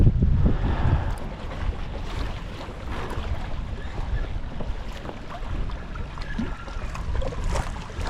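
Wind gusts steadily across an open boat on the water during smallmouth bass fishing, a continuous broadband rush with no pauses, close to the microphone.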